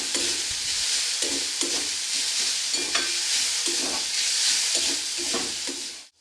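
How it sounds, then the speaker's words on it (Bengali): Potato and carrot masala with chili powder cooks in a pan, a continuous close sizzle with rhythmic stirring and scraping strokes throughout, fading out at the very end. "দিয়ে এটা ভালো করে কষিয়ে নেব।"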